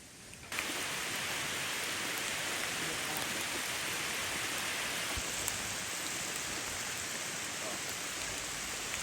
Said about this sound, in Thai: ฝนตกเลยพี่